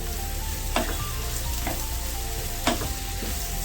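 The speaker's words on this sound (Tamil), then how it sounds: "ஸோ வெங்காயத்தை நல்லா வதக்கிறோம்." Onions sautéing in a pan give a continuous near sizzle, broken by a few brief clinks and scrapes of stirring, no talk.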